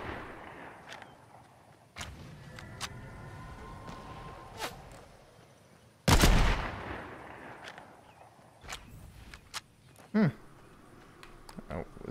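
Gunfire in Fortnite on the Switch: scattered sharp shots, with one loud burst in the middle and another later on, mixed with footsteps and game sounds under talk.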